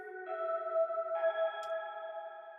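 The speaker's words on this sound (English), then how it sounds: "So you can hear the reverse in the background." A quiet, swelling guitar tone that fades in backwards, with sustained layered notes shifting pitch midway and a soft ghostly texture.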